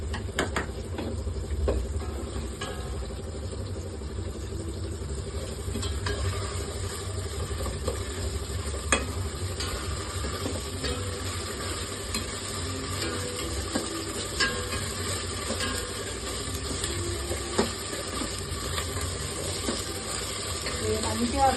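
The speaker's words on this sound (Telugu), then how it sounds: "ఉల్లిగడ్డలు బ్రౌన్ కలర్ వచ్చేంత వరకు వేయించేసాను" Onions and blended spinach frying in a pan for palak rice, with a steady sizzle under repeated stirring scrapes, close and continuous at moderate level throughout.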